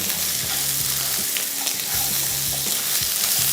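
Chicken with sliced onion fries in a pan, giving a dense, steady sizzle heard up close, with a low repeating hum and scattered clicks of stirring.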